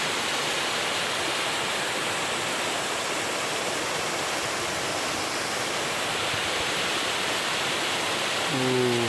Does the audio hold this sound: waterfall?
yes